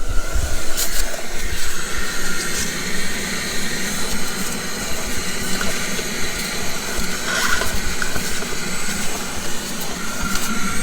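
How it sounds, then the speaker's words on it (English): A vacuum cleaner runs steadily while a car interior is being detailed, giving a continuous loud whooshing hiss with no pauses throughout. "Let's get that vacuum."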